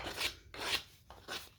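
Hand shaping of carved cedar wood for a flame sculpture, three close, rough rasping strokes in a steady back-and-forth rhythm.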